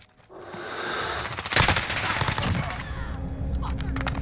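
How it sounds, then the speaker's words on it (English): Automatic rifle gunfire in a Modern Warfare gunfight, dense bursts of rapid shots that get louder and heavier midway, with continuous crackling fire throughout. "I'm not having a gunfight where I'm not getting shot at all"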